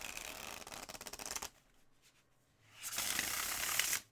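Stiff, firm cardstock playing cards riffle-shuffled in two bursts, a crisp rapid flutter up close, then a pause and a second smoother, sustained riffle.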